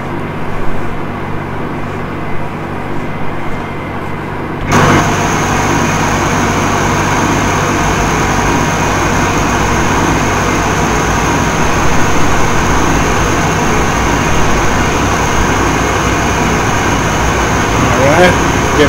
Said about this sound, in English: start left engine first. Start.